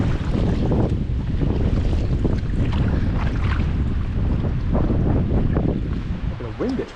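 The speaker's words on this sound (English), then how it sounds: "The wind gets really heavy right here." Heavy wind buffets the microphone continuously aboard a boat moving at full speed near Little Cranberry, with rumbling low roar and splashing waves throughout, a brief voice near the end.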